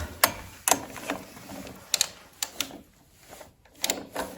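A ratchet wrench fitted with a 21 mm socket clicks in short bursts of sharp pawl ticks while working on a DTZ tractor engine during crankshaft seal replacement, quiet and close with pauses between strokes.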